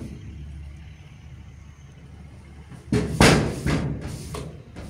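An angry lioness slams against her iron enclosure, sending a few heavy metallic thuds and bangs over a low, steady rumble of background noise.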